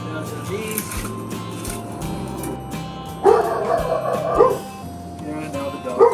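A dog barks and whimpers in a few short, close outbursts over a steady background hum, with a voice faintly present.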